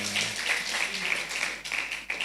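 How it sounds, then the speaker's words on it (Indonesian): Young people in a church congregation clap on cue during a worship service, a short burst of moderately loud applause with a few distinct claps standing out. "Yang anak-anak muda tepuk tangan dong."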